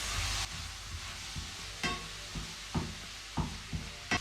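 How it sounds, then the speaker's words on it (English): Mushroom sauce stirred in a pan: soft low sizzle underneath a handful of spaced spoon scrapes and taps, fairly quiet and close, no talking. "I'm going to give it another mix."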